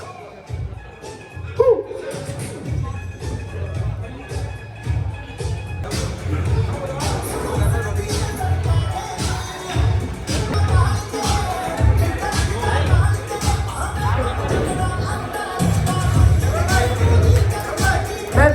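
Noisy crowd at an esports watch party in Guwahati, a steady dense roar of voices, shuffling and occasional bangs, close and loud throughout, with people talking over it.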